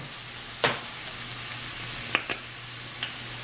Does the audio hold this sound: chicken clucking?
no